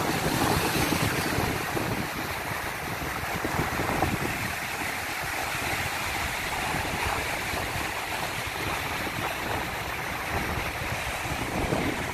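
Strong wind blows at a seaside beach during paragliding over the sea, with a steady, loud roar of gusts and buffeting on the microphone mixed with breaking surf, continuous throughout with no talking.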